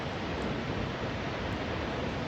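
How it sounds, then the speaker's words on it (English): A massive waterfall pouring off a glacier near Whittier, Alaska, heard as a steady, dense roar of rushing water that fills the whole moment without pause. "Hopefully you may even be able to hear the sound of the water."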